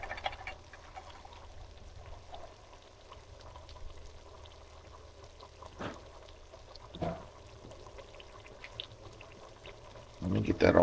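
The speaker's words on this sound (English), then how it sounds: "I'm also going to add 1 can of Rotel Hatch diced tomatoes and chilies" Canned Rotel Hatch diced tomatoes and chilies pour into a pot of spicy beef chili, a soft wet glugging slide with a couple of plops and a louder splashing spill near the end, faint and close.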